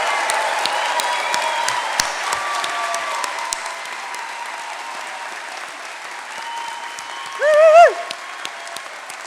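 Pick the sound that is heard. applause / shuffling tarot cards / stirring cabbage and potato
applause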